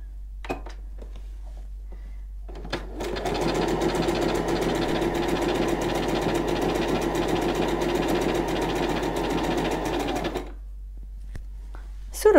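A Minerva DecorMaster sewing machine stitches decorative pattern 48, a loud, rapid mechanical whirring with steady needle clatter lasting about eight seconds, with quiet clicks before and after.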